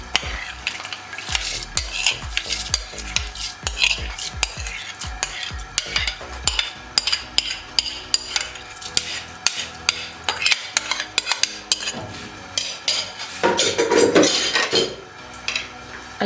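A spoon stirs soaked rice and grated carrots in a cooking pot for carrot kheer, giving repeated close scraping and clinking strokes against the metal with faint sizzling and no talk.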